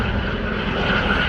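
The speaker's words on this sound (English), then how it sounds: "Helicopter!" An aircraft engine drones steadily overhead above the Montenegro coast, a continuous loud rotor-and-engine roar filling the short moment with no voices.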